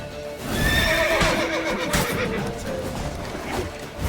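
A horse in the video game The Witcher 3: Wild Hunt gives a loud whinny over quick hoof clip-clops, with the galloping continuing close and strong.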